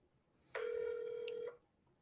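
A single steady telephone tone lasting about a second while a call is dialed, clear and close, alone against a faint background hiss.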